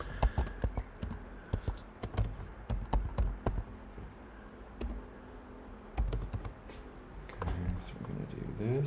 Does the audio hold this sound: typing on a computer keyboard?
yes